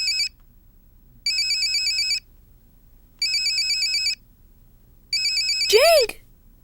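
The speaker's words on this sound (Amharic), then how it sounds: "ስልኩ እየጠራ ነው፣" A telephone ringtone sounds in four clear bursts, each about a second long with pauses between, loud and close, with a rising-and-falling chirp sweeping through the last burst; no talk.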